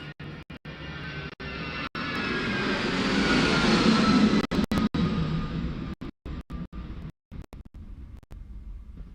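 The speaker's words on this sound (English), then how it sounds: "You hear that? That's one of the fire planes." A low-flying firefighting plane loaded with fire retardant roars overhead, its engine drone swelling to a peak and fading, broken by wind buffeting and clicks near the recording device.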